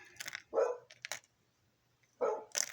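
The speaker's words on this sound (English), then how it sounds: "the dog's always barking and chaos around me" A dog barks in two short bursts, a pair of sharp barks and then another pair after a pause, fairly close and loud in a busy home in Arizona.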